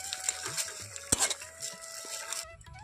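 Neem leaves dropped into a kadai over the stove, giving a brief clattering clink of utensils against the metal pan near the middle, with light stirring scrapes and faint kitchen clatter around it.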